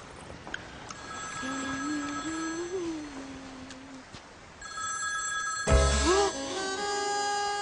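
A telephone bell rings in a steady repeating pattern with a tonal melody line beneath it, then a sharp loud burst near the end, set in a Tamil film scene.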